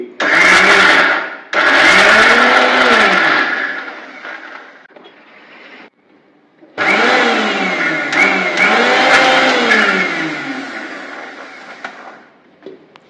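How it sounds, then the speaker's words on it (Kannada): An electric mixer grinder blending drumstick leaves into chutney, loud whirring bursts that spin up and wind down, with a pause in the middle and a longer second run that slowly fades. "ಈಗ ಮಿಕ್ಸರ್ ಜಾರನ್ನ ಗ್ರೈಂಡರ್ ಮೇಲೆ ಇಟ್ಟು ಚೆನ್ನಾಗಿ ರುಬ್ಬಿ."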